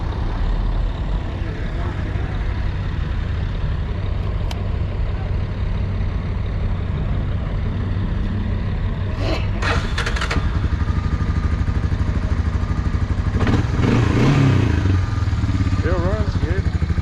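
A Honda FourTrax ATV engine idling at an outdoor equipment auction, a steady close rumble running throughout while someone talks over it.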